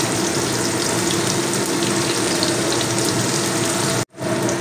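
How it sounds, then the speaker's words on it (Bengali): Chopped onions frying in hot oil for a fried rice dish make a loud, steady, close hissing sizzle that cuts out for a split second near the end, then resumes. "তো এবার আমি কেটে রাখা পেঁয়াজগুলো তেলের মধ্যে দিয়ে দেবো"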